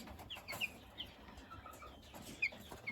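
Eleven-day-old Ross 708 broiler chicks heard faintly, with a few short, high peeps and soft clucks over a low background murmur and no talking.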